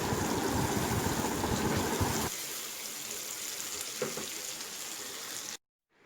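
Chana dal and bitter gourd with onion sizzle hard over a high flame, a loud, dense frying hiss that drops suddenly to a softer, steady crackle before cutting to silence.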